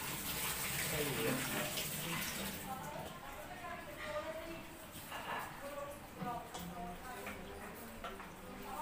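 Running tap water splashes over potatoes being washed in a home kitchen, a steady close gush that eases into softer trickling and clinking, with someone talking over it.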